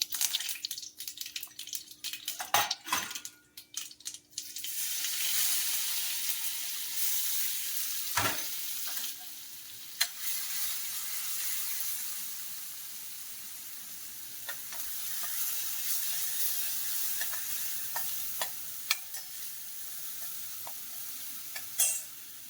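Curry leaves and spices such as mustard seeds and cumin sizzle in hot oil for a white pea curry, with a loud opening burst of crackling and clatter settling into a steady hiss and occasional pops.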